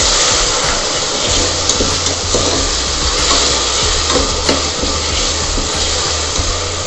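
Green chilies fry in hot oil for vegetable pulao, a loud, close, constant sizzle and crackle with occasional stirring scrapes and a low steady hum beneath, no voices present.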